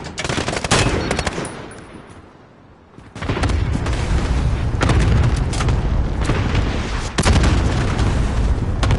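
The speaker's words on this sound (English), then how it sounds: "Enemy cluster strike incoming." Cluster strike explosions in Call of Duty: Modern Warfare on PS4 Pro, loud rolling booms and rapid crackling blasts that burst in, briefly drop to a lull, then return as a dense, sustained barrage with another sharp hit near the end.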